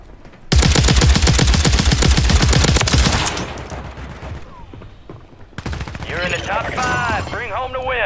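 Rapid automatic gunfire in a Call of Duty multiplayer match rattles loudly for a few seconds, then fades. Later, quieter game sounds and a voice come in.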